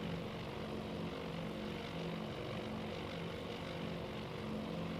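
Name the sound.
WWII propeller bomber formation flying, video game Task Force Admiral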